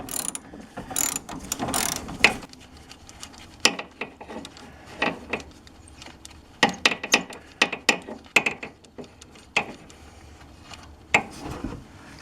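A wrench ratchets on a tight 14 mm tie rod nut on a Polaris Sportsman ATV, close bursts of rapid clicking broken by pauses and a few clanks, with no talking.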